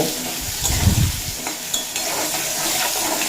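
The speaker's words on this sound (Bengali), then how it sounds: "ওই তেলেই ভেজে নেব লাউ লাউগুলো হাই ফ্লেমে" Bottle gourd pieces frying in oil over a high flame: a constant close sizzle with a burst of stirring and tossing early on, then a brief clink of the utensil.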